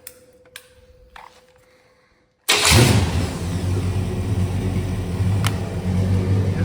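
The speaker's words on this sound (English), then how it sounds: "it fires right up now and idles" A 1970 GMC 2500 truck engine cranks and fires up abruptly after a few faint clicks and near silence, then settles into a loud, steady, rumbling idle close by.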